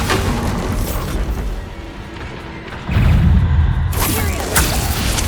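Bombardment spell explosions in Hogwarts Legacy rumble with layered booms and crashes, surging into a loud, heavy blast midway, followed by a second whooshing impact near the end.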